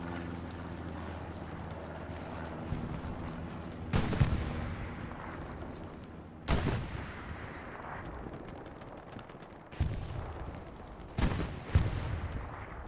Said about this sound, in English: Some rockets coming in.